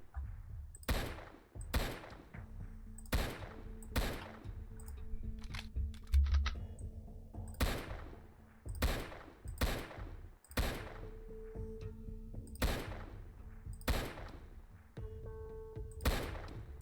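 Gunfire in the Roblox video game: loud, sharp shots repeating at a fairly regular pace of roughly one or two per second, with a low background hum between them.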